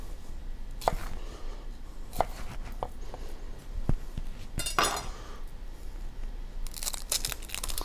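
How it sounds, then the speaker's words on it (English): A kitchen knife halves an onion and trims off its ends while chicken and wild rice soup is prepared; several sharp, close cuts and taps land at irregular intervals over quiet room tone, with no talk. "Last but not least, we got our onion. I'm gonna cut it in half,"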